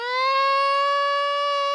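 A green frog giving a single loud, drawn-out scream with a piercing, harmonic-rich tone, close and alone for under two seconds.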